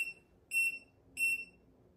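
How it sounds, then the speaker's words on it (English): Three short, high-pitched electronic beeps from a BlueFire ultrasonic retainer cleaner signaling the end of its cycle, evenly spaced, each followed by quiet room hum. "those three beeps meant that it was all finished cleaning"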